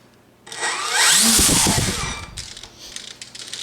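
A small electric RC aircraft motor throttled to 25% spins up sharply into a loud, high whine with rising pitch sweeps, then settles to a steadier buzzing hum.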